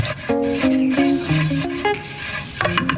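Real butter melting in a non-stick pot gives a steady, close scraping sizzle as it is stirred, loud and continuous with no speech, while sustained tones ring over it.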